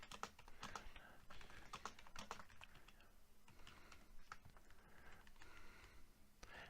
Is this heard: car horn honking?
no